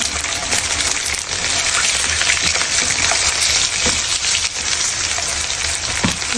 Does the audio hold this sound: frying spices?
yes